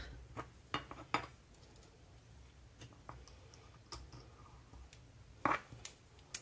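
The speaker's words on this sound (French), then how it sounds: "Pour l'instant, je nettoie la petite cuillère." A small spoon being cleaned, with scattered light metallic clinks and taps of cutlery against dishes, quiet and close, separated by soft pauses and ending with a few sharper knocks.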